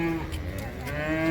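Heifers mooing at a cattle market in Baramati, long drawn-out lowing calls close by and fairly loud over a busy market background.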